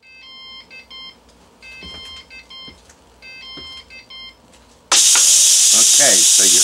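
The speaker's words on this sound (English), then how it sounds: "It gives you a warning beep to let you know that it's getting ready to release the pressure" A Ninja Foodi pressure cooker gives a series of short electronic warning beeps repeating in clusters, then a loud, sustained hiss of pressure releasing bursts in suddenly, with a voice faintly underneath.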